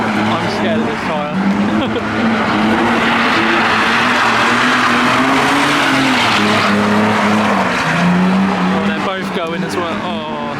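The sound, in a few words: modified car skidding at a car meet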